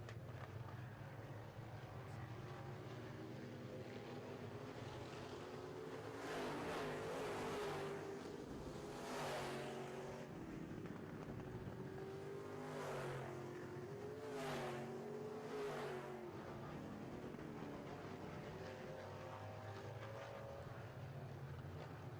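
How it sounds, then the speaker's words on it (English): Midwest Modified race cars at a dirt oval, four running side by side into turn 3 during a September heat race: a steady, far-off engine roar with several louder passing surges swelling and fading, under a faint commentary voice. "A drag race into turn 3 between 4 cars"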